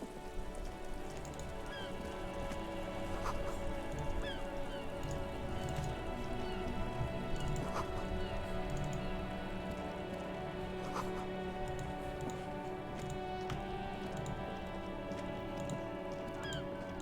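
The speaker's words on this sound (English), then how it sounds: "I guess it's raining now." Steady rain in the video game Disco Elysium, a continuous dense patter of drops on surfaces with occasional sharper drips, even and unbroken throughout.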